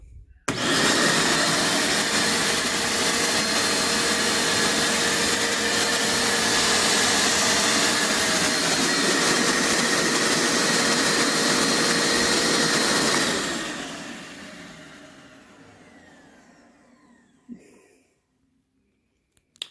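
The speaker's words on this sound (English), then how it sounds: "And the new one, the new little shop vac" A small shop vac runs loud and steady with a continuous whooshing roar for about thirteen seconds, then winds down and fades to near silence.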